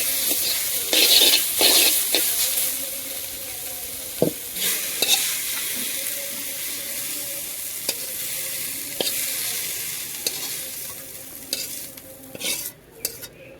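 Greens and vegetables stir-fried in hot oil in a pan, with a steady loud sizzle broken by scraping stirs and occasional clinks of a utensil against the pan, close up and without voices.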